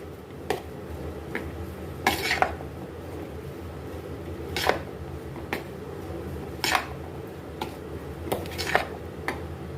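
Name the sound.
mixing chana chaat with green chutney in a bowl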